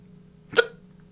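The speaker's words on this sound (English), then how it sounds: "I have the hiccups" A single sharp hiccup bursts out once, brief and close, over a quiet background hum.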